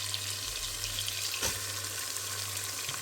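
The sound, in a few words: onions lightly frying in a pot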